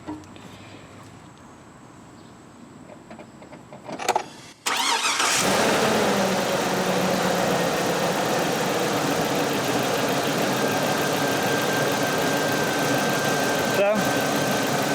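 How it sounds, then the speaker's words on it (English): Truck engine cranks and catches after a short quiet stretch, then settles into a loud, steady idle that runs close and continuous to the end. "So we're going to turn the truck back on"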